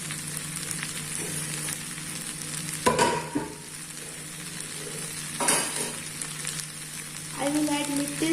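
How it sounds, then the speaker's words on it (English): Soya chunk sabzi being stirred into rice in a hot pan, a continuous soft sizzle punctuated by a few scraping spoon strokes and clinks against the pan. "Now we will mix the sabzi in the rice and our soya chunk rice will be ready."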